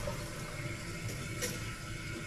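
A toilet tank refilling with water in a woodland cabin after plumbing work, a steady rushing hiss of flowing water with a faint trickle and a brief splashy burst midway, close and continuous.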